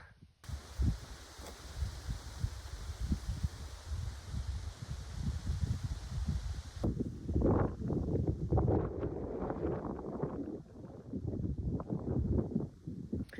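Wind rushes and buffets the microphone in a steady, rumbling roar, turning into more broken, gusty bursts partway through.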